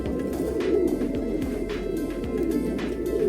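Paired purple-necked pigeons, a male and female set together, coo steadily in low repeated murmurs, close and continuous, with no talk over them.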